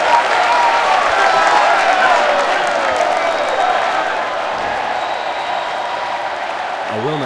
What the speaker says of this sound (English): And the crowd goes wild for it.